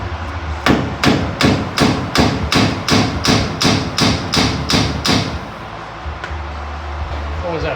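A hammer, plastic-headed, strikes a part on a turbo mail jeep during a gear oil change: about a dozen sharp, evenly spaced blows in quick succession, close and loud, then quiet shop ambience.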